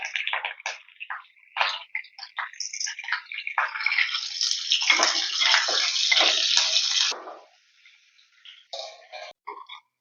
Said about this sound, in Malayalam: പോത്തിന്റെ റിബ് വെക്കുകയാണ്.